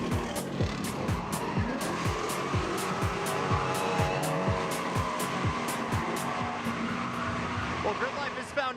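Tires skid on Dodge thrill ride cars at a track event, a busy, steady roar of engines and repeated sharp squeals spread through the stretch, with talk running underneath.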